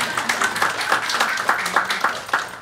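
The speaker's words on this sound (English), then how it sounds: "you can clap for that" A small audience claps at a design talk on digital health, a short burst of scattered, fairly close hand claps with an uneven rhythm that holds for a few seconds.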